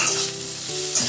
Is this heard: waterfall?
no